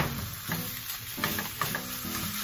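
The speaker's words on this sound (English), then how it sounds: "Then into our onions, we're going to put our lean ground beef." Lean ground beef and onions sizzle and crackle steadily in a frying pan, with a few stirring scrapes and bumps breaking through the continuous close hiss; no talking.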